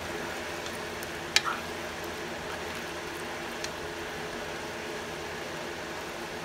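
Sweet pepper tossed into a pan of frying string beans (sitaw) brings a brief sharp clatter, then a steady low sizzle that keeps going without any talk.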